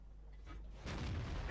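A tank main gun firing a high-explosive shell in World of Tanks, the VK 30.02 D, one sudden booming shot partway through that stays at a sustained roar and rumble afterward.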